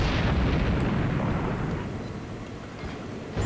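Naval gun shells slamming into an enemy warship in a naval combat game, a heavy booming explosion that rolls off into a long rumbling decay, with a fresh thud at the very end.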